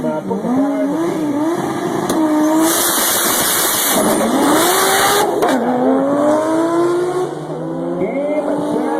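A turbocharged Toyota Supra Mk4 at a drag strip, its engine revving loudly with rising and falling pitch sweeps and a sharp burst of hiss and rush midway, close and continuous while a crowd murmurs faintly.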